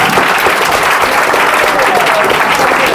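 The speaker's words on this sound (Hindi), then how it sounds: "बैठ कर नहीं, खड़े होकर बजाइए तालियां।" Audience applause fills the space at a coaching class event in Patna City, a dense, steady clapping from a crowd standing up, continuous and loud for the whole stretch.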